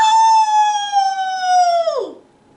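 A voice imitates the howl of March pictured as a lion: one long, loud, wavering howl held for about two seconds, sliding downward in pitch at the end before it fades.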